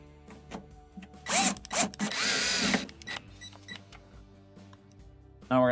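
A power drill drives 2 5/16 screws back into a commercial ice maker cabinet in a few short whirring bursts, one longer than the others, with quiet clicks and handling noises in between.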